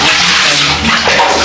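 Water poured over a person's head to rinse their hair, a loud close rushing splash that runs continuously and swells slightly near the end.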